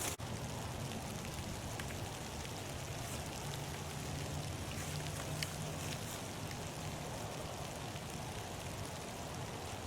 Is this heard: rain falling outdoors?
yes